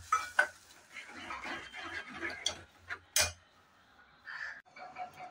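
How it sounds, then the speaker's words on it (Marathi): Cooked lentils from a pressure cooker being stirred into a pot of ridge gourd amti, with soft scraping and a few sharp clinks of a spoon against the pot, moderately quiet and alone. "आता ही कुकरची डाळ सगळी त्याच्यात मिक्स करायची आहे."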